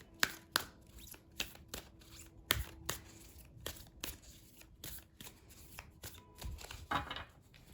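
Tarot cards are shuffled and drawn by hand, giving soft, quiet snaps and flicks in an irregular rhythm against a hushed background.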